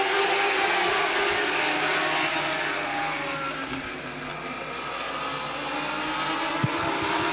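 Dwarf cars race around Angola Motorsport Speedway with a dense, steady engine roar at moderate distance that swells and eases slightly, and a brief click near the end.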